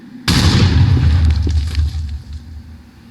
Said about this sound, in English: Why is the missile hitting our civilization?